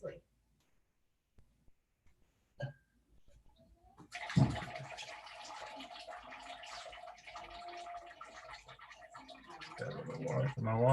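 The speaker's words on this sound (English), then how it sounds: "I'm gonna put in a little bit of water into the bottom to get a little bit of steam going" After some faint clicks and handling noises, a little water pours steadily into the bottom of a pot for steaming, a continuous close splashing that grows slightly louder toward the end.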